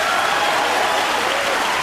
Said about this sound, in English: And Earl leading the applause